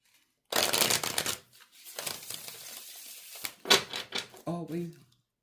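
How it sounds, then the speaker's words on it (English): A deck of cards is shuffled close up, a quick riffling burst followed by softer flicks and a brief riffle, with a voice speaking briefly near the end. "So I want to give it one more good shuffle."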